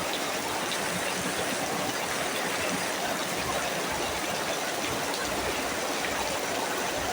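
Floodwater surges after heavy rain in a constant, dense rushing roar that holds steady throughout without pauses.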